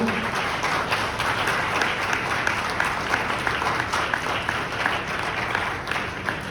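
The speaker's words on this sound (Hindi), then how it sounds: "आइए परमेश्वर पिता के लिए जोरदार हम ताली बजाएं।" A church congregation claps loudly in praise to God during a Hindi sermon, a dense continuous wash of many hands filling the hall without pause.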